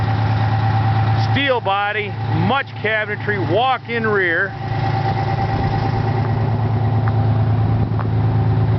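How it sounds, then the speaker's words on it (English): A Detroit 6V 250-horsepower diesel idles steadily in a 1981 Pierce medium-duty rescue truck, a constant mid-pitched rumble running under a man's speech and then heard alone. "That sound you're hearing in the background is a very solid Detroit"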